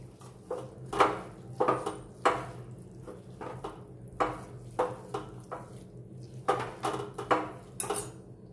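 Metal spoon scraping and clinking against a pan as a gond (edible gum) mixture is stirred, a steady series of rhythmic scrapes and knocks up close over a faint low hum, with no talking.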